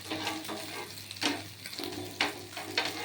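Egg omelette mixture cooking in a pan gives a soft, continuous frying hiss, punctuated by a few brief scraping stirs of a utensil; fairly quiet and close, with no talking.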